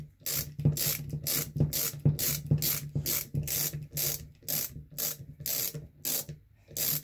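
Steady ratcheting clicks from a 4mm Allen key working a screw on a 1/5 scale Arrma Kraton 8S RC truck during a steering servo upgrade, a regular close rhythm of about two clicks per second.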